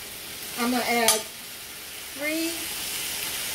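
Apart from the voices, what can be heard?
chicken searing in a pan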